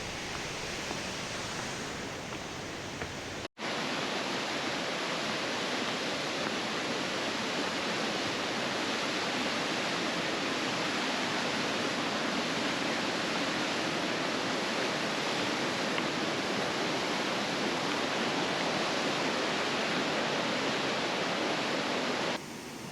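The Kawazu seven waterfalls on the Kawazu River, a steady broadband roar of falling water that runs unbroken and loud after a brief cut near the start.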